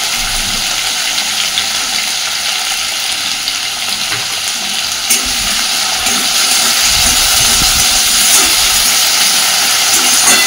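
Potatoes tossed with slit green chillies fry in oil, giving a steady, loud, close hiss and sizzle that runs unbroken throughout with no talking.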